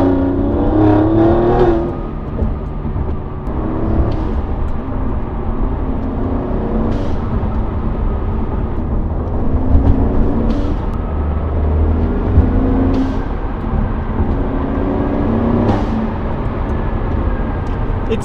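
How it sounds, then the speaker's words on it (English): Turbo engine of an Alfa Romeo Giulia Quadrifoglio revs and releases with a repeated blow-off valve whoosh, several bursts spaced through a steady close engine drone. "Test out some BOV."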